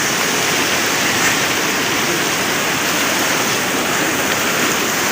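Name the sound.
rushing stream on the K2 base camp trek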